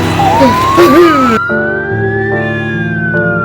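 An emergency vehicle siren wails loudly and close, rising and falling, as the vehicle arrives at a gate, with an engine rumbling underneath.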